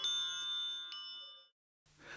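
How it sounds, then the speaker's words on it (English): A single bright bell in a Montessori classroom rings out once with a clear ding, its tone sustaining and slowly fading over about a second and a half before silence. "Children learn routines, such as bells signaling a time for outdoor play or lunch."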